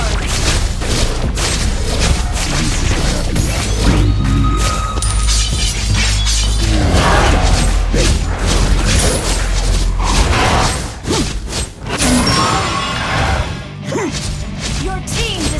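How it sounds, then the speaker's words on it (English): A turret being destroyed in the mobile game Mobile Legends: dense, loud crashes, shattering impacts and booms over constant game music and effects, with a spoken game announcer voice. "Your team destroyed a turret."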